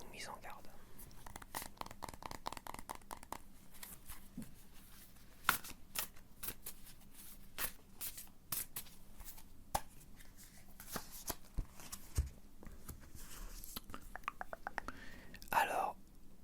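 Tarot cards shuffled and drawn during a 2026 cartomancy reading: soft, close crinkly rustles and quick flicking snaps of card stock in a fast irregular patter, under hushed whispered talk.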